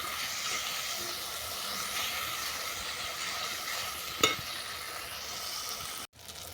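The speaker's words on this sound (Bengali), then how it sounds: "এরপর এটা ভালো করে কষিয়ে নেবো যতক্ষণ না তেল ছাড়ছে।" Spice paste with chopped tomato stir-fried in oil until the oil separates, a steady low hiss of frying with a sharp scrape near the end, no voices.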